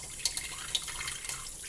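Tap water runs steadily into a kitchen sink, with a soft continuous splash broken by a few sharper drips and spatters and no talking.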